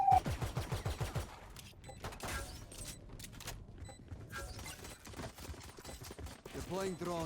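Rapid gunfire bursts and single shots from a competitive first-person shooter esports match, with weapon mechanism clicks and a commentator's voice layered over the action.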